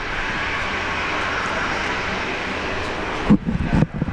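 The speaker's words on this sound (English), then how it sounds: "Takeoff, runway 19 right, Air Canada. Air Canada's on his way." An Air Canada airliner takes off from runway 19 right at Brisbane International Airport, a sustained broad jet engine roar heard from a distance, with a few brief bumps of handling or wind noise near the end.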